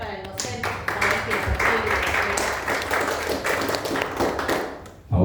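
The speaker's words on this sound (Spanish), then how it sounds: "Un aplauso fuerte para el docente." An audience gives a teacher a strong round of applause at an event, a steady burst of clapping that holds for several seconds and ends with a sudden loud bump near the close.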